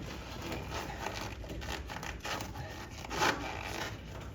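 Plastic chiller tubing is worked onto a barbed connector by hand, producing faint, steady rubbing and squeaking friction close up, with one slightly louder scrape near the end and no talk.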